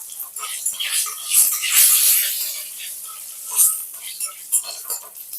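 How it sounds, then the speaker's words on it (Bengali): Dry chilli, whole cumin and radhuni seeds sizzle in hot oil in a pan, a light crackling hiss that swells and fades, with soft stirring noises and quiet speech under it. "ফোড়নটা একটুখানি ভেজে নেব।"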